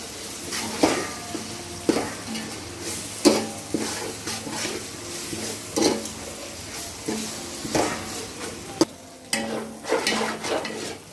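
Ginger garlic paste frying in a pan for pulao, a steady soft sizzle under repeated scraping and stirring strokes of a utensil against the pan, with occasional clinks, close up.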